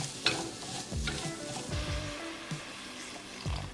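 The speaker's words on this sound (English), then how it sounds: "I'm gonna fry this a little bit. I'm gonna add in the broccoli, carrots," Broccoli, carrots and sweet potato frying with pre-made red curry paste in a pan, a soft steady sizzle under several scraping stirs and utensil knocks against the pan, close and moderately quiet with no talking.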